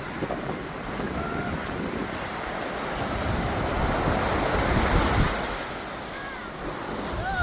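Ocean waves rolling onto a beach with a continuous roar of surf and wind buffeting the microphone, swelling slightly midway.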